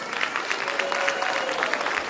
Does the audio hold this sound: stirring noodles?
no